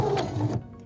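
Sewing machine stitching fabric at a corner, a brief steady whir of the motor and needle for about half a second, close and fairly loud, then stopping into quiet.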